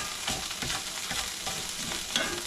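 Curry paste for a rockfish curry cooks in a pan, a soft steady sizzle broken by repeated scraping strokes of a stirring utensil, fairly quiet and close, with no talking.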